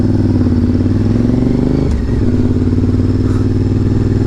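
A Honda VTR 1000 motorcycle engine runs loud and close with a thumping, pulsing beat and a brief dip and blip in revs midway, with no voices.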